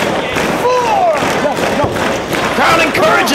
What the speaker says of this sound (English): Crowd encouraging him.